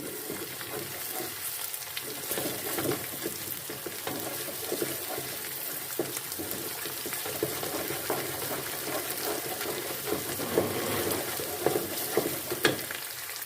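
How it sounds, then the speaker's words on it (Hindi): Crushed garlic and ginger frying with browned onions for a chickpea and egg curry, a constant close sizzle with intermittent stirring scrapes against the pan, moderately loud and without speech. "अब इसमें हम लहसुन अदरक कुटा हुआ डाल लेंगे। 2 मिनट इसको भी हम अच्छे से फ्राई कर लेंगे।"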